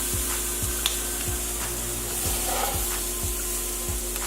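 Grilled Vietnamese skewers for bun tom nuong xa sizzle steadily on a hot grill while a spatula scoops them up, with a loud continuous crackle and faint rhythmic ticks underneath.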